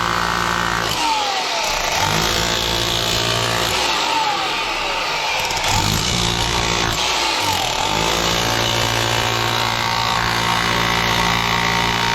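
A rotary hammer fitted with a wide chisel bit splits stone, a loud, steady motor roar with hammering that runs almost the whole way through, with short dips where the tool pauses or shifts position.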